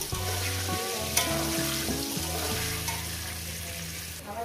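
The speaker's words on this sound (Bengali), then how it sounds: "আলুগুলো ভেজে নেব, একদম লাল লাল করে ভেজে নেব, পুরো ভেজে" Potatoes fry in oil with a continuous, fairly loud sizzle and background hiss, while a steady tonal hum and music-like tones run underneath throughout.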